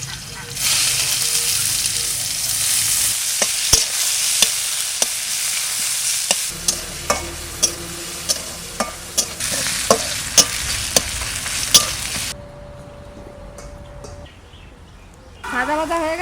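Onions and crushed garlic fry in a little oil while being stirred, steady loud sizzling punctuated by regular sharp clinks of the spoon against the pan, easing to a quieter hiss toward the end.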